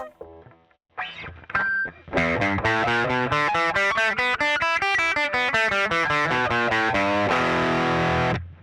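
Electric guitar with Seymour Duncan humbuckers played through a Fender amp and Tube Screamer overdrive, giving a loud, creamy rock crunch. A few sparse notes open, then it settles into steady, driving chords and riffs that ring out alone.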